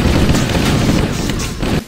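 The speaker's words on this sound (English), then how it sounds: "In fact, all of the guns in Halo 1 have such a satisfying firing sound to each one." Sustained automatic fire from the Assault Rifle in Halo: Combat Evolved, a dense, continuous rattling burst that runs loud and unbroken for nearly two seconds before cutting off.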